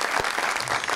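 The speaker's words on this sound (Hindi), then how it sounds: "तालियां।" Studio audience applause on a Pakistani TV talk show, a dense, steady wash of clapping that fills the whole moment with no talking over it.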